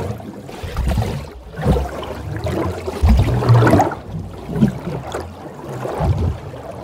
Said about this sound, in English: Let's listen to a mix of 16 different mono underwater recordings, just mixed down without SpinTracer.